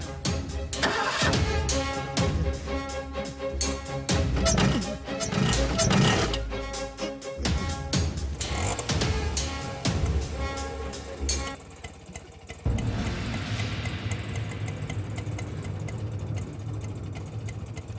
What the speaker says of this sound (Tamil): வண்டி ஸ்டார்ட் ஆகல சார். பார்த்தேன். இப்போ ஸ்டார்ட் ஆயிடுச்சுல